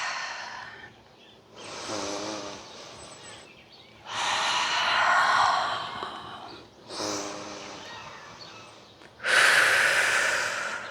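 Slow, deep breaths during a yoga stretch for the hips and shoulders: five long inhales and exhales alternate in an even rhythm, close and clearly audible, with no talking.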